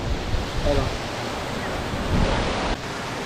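Bolinao Falls number 2 in Pangasinan roars as a steady, broad rush of falling water, close and continuous, with a little wind on the microphone.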